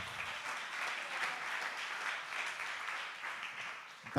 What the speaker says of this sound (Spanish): Um aplauso para Miguel